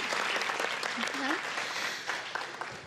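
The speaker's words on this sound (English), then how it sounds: "Please give them and our art teachers one more round of applause." A crowd claps steadily in a room at a school board meeting, dense applause with faint voices mixed in, tapering slightly toward the end.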